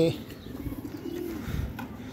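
Pigeons kept for sale coo softly in a brief, low burbling phrase, close by, with a voice talking alongside.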